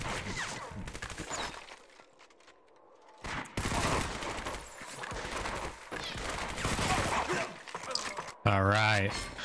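Bursts of rapid gunfire from the video game Medal of Honor: Vanguard crackle in dense volleys with brief gaps and one quieter lull, loud and close, occasionally overlapped by a player's voice.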